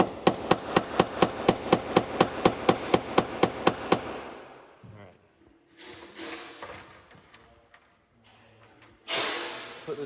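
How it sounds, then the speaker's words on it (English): Center punch hammered against rivets on a Peterbilt 389 truck cab, a fast run of about fifteen evenly spaced metallic strikes, followed by quieter shop handling noises. "you gotta center punch these rivets"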